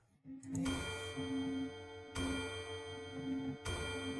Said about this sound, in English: The chiming of the clock rings out loudly.